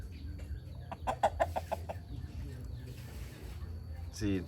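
A chicken gives a quick burst of several close clucks, then goes quieter against faint background sounds. A brief vocal sound comes near the end.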